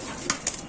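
Pigeons of the white show king breed cooing faintly in a loft or market setting, two short soft calls standing above a steady background hiss.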